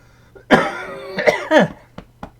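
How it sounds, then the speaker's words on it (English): One loud, close cough rasps out, followed by a few rougher hacking bursts and then a couple of small clicks as it fades. "Makes you cough though."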